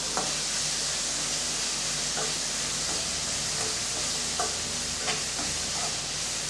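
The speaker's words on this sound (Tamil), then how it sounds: "ரெண்டு கத்திரிக்காய் கட் பண்ணி வச்சுருக்கேன் அதையும் சேர்த்துடலாம் சேர்த்து நல்லா வதக்கி விட்டுக்கலாம்" Cut brinjal sautés in a pan for sambar, giving a steady close sizzle with a soft hiss, punctuated by several light scraping and tapping stirs at irregular intervals.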